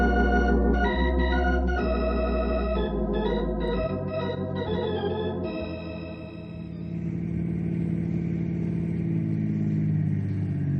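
A car engine runs steadily and loud, with a tonal musical bed over it, then the sound shifts as the vehicle pulls away, fading toward a softer rumble near the end; no talking.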